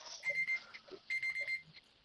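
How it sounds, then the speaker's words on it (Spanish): An alarm clock rings faintly in two bursts of rapid, high-pitched electronic beeps, heard in a quiet room with no one talking. "Justo sonó la alarma."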